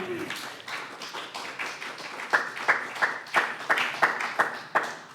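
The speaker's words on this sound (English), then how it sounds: "If we can have another round of applause for E.K. Keith." An audience at a poetry reading claps after a poem. The clapping starts soft and mixed with a few voices, then settles into louder, evenly spaced claps.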